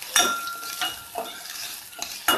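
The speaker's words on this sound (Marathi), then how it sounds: "हे सर्व मी साहित्य आता या तेलामध्ये टाकते आणि परतून घेते" Onion, garlic cloves and curry leaves sauté in hot oil for a Malvani black pea sambhar, a steady close sizzle broken by several sharp scraping stirs of a spoon against the pan.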